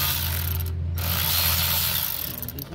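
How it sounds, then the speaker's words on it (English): An automatic angle ratchet gun runs loud and close, loosening a bolt during an anti-lock braking system replacement, giving a steady mechanical whirring buzz for nearly three seconds with one brief dip near the start. "I bring the automatic ratchet gun, so it will be help me for that. It's my life-saving tool, angle ratchet"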